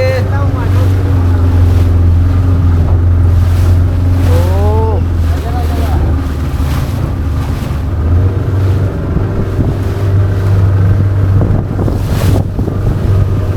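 A motorboat's engine drones low and steady on the water at Massanjore Dam, a constant rumble with wind buffeting the microphone, while people chatter nearby and a few brief voice-like calls rise over it.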